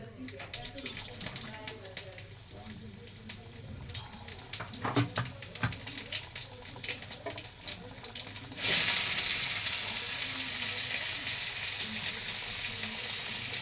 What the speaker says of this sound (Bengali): তেল গরম হয়ে গেছে, এবার আমি এখানে যে চিকেনটা ম্যারিনেট করে রেখেছিলাম ওটা দিয়ে দেব।